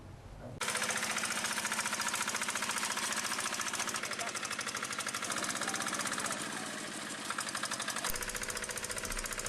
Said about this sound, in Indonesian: Petani tersebut membuat traktor pembajak sawah yang digerakkan dengan remote control.